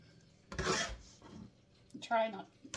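Coconut filling for chocolate-covered Easter eggs being mixed with a tool, two short scraping, rubbing strokes close by, with quiet pauses between.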